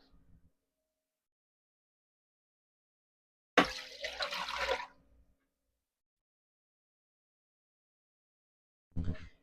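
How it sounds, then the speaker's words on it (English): Vinegar poured into a pot to make brine, a single splashing pour of a little over a second, fairly close, with near silence around it and no talking. "I'm going to start off with 4 cups of vinegar."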